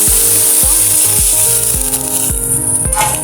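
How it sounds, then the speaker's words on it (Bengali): Onion, shrimp and green chilli with turmeric and salt fry in a pan for a jute-leaf stir-fry, a bright steady sizzle under loud rhythmic spatula scrapes that come roughly twice a second, close up. "তারপরে পেঁয়াজ চিংড়ি মাছ কাঁচা লঙ্কা হলুদ লবণ এগুলো দিয়ে ভেজে নিতে হবে"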